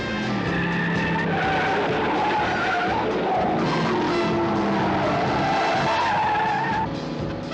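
Tires skid and squeal under a speeding car in a classic car chase movie trailer about a stolen Corvette, a loud, continuous screech with engine noise that fills the whole stretch without pause.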